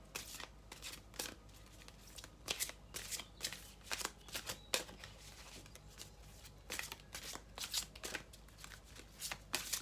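A deck of playing cards is shuffled again and again, soft crisp riffles and snaps in a quick uneven rhythm, close but quiet.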